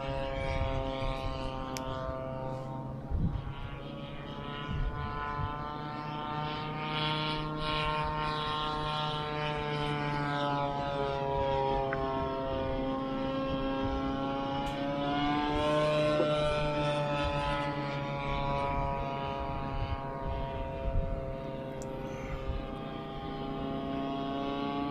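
An aircraft engine drones steadily for about half a minute, with a moderate, continuous hum whose pitch slowly bends as it passes overhead, and no voices.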